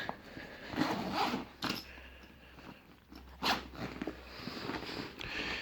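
The zip on a pocket of a tactical everyday-carry bag is pulled open in several short, rasping bursts, close and fairly quiet, with rustling of fabric and handling between pulls.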